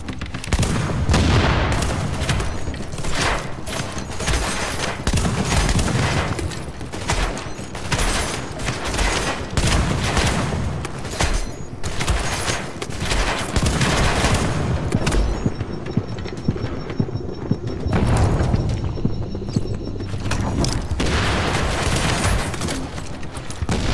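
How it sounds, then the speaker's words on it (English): Video game combat with repeated grenade launcher explosions, loud booms and blasts recurring throughout amid scattered gunfire and mechanical clatter, dense and close with no speech. "Oh, enough of the damn grenade launcher."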